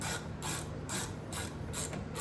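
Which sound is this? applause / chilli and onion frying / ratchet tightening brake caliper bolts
ratchet tightening brake caliper bolts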